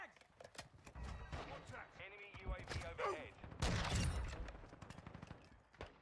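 Sniper rifle shots ring out in Modern Warfare 2, heard as sharp cracks under excited, overlapping talk from people reacting to the gameplay.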